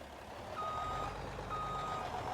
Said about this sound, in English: This truck also just sounds really good.